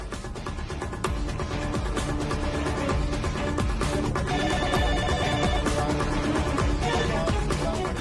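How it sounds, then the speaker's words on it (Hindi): A telephone bell rings on and on without being answered, loud and continuous with a steady repeating pattern and no talk over it. "तो फोन क्यों नहीं उठा रही है?"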